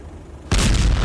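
A sudden deep boom from an explosion near Haifa port in Israel cuts in after quiet, followed by a heavy, sustained rumbling roar close by.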